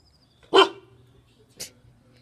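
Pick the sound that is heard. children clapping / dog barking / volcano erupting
dog barking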